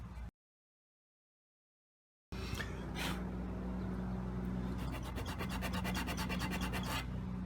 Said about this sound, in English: Now I'll get some finer sandpaper, something like this here, and finish sanding it down smooth.